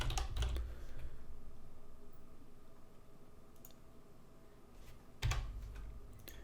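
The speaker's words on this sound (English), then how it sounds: "Here you need to create a new folder, type in mods." Computer keyboard keys tapped in a few short bursts while a folder name is typed, close and moderately quiet over a steady low room hum.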